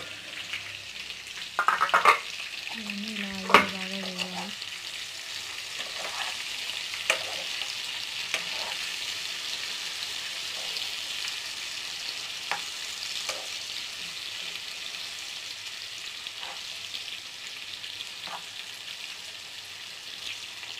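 Eggplant curry with ginger-garlic paste frying in oil gives a steady, soft sizzle throughout. A few sharp utensil clinks and scrapes come near the start, with scattered light pops later and no talking.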